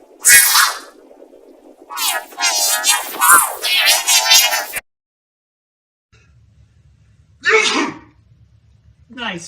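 Cartoon sneezes from an animated character: a sharp burst at the start, a longer voiced stretch that sounds like speech, then another loud sneeze after a silent pause.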